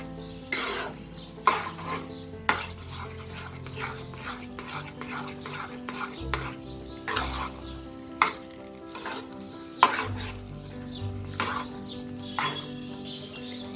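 Bottle gourd curry being stirred in a pan, with a soft, continuous sizzle and intermittent scraping spoon strokes at an irregular pace, fairly close and moderately quiet.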